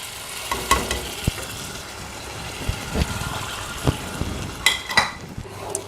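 Tamarind water poured into a hot pan, setting off a steady hiss and sizzle with a few clinks and stirring knocks, close by and without talk.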